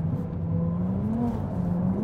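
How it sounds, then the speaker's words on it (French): A Ferrari 296 GTB's V6 engine accelerates with a low, smooth hum whose pitch climbs slightly, heard steadily from inside the car. "malgré la présence d'un petit V6 qui sur les berlinettes de Ferrari n'était pas présent depuis des dizaines d'années, eh ben on a quand même un bruit"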